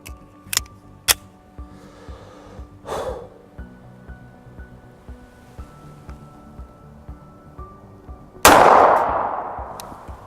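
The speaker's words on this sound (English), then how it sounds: "Round we're firing is a Remington full metal jacket 230 grain 45 caliber round." Remington 230 grain .45 caliber full metal jacket rounds fired at sheet-metal office cabinets, giving a few sharp distant-sounding pops, then one loud, close gunshot that rings out and decays near the end.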